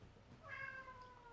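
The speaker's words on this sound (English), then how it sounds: "I don't know if you can hear my cat meowing." A house cat gives a single drawn-out meow in a home kitchen; it is faint and fairly distant, rising briefly and then trailing off over quiet background noise.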